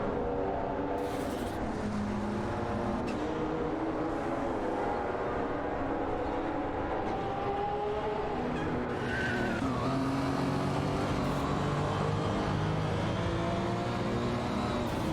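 Race cars roar continuously in an AI-driven racing video game, engines droning and tires squealing as cars such as a Buick ENX and a Porsche 959 jostle and overtake, with no talking.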